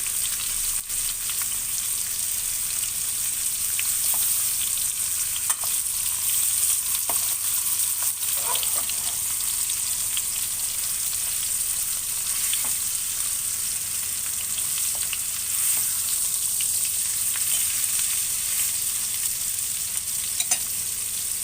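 A piece frying in a pan gives a steady, bright hiss of sizzling oil for the whole stretch, broken by a few sharp clicks and a brief clatter as it is turned over.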